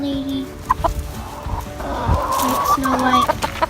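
Backyard pet chickens clucking close by in short, irregular bursts, with some voices and soft handling noises around them.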